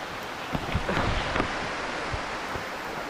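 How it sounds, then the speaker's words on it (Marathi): A sudden heavy downpour roars in a dense, steady hiss of rain with a few louder gusts and spatters, continuous and fairly close with no voices. "पाऊस पण अचानक एकदम जोरात आलाय."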